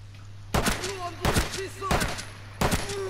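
Four sharp gunshots ring out in Rainbow Six Siege, spaced roughly a second apart, loud and close, each with a short echoing tail over a low steady hum and faint voices in the background.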